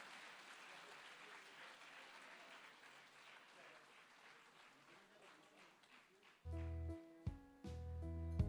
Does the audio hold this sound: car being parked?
no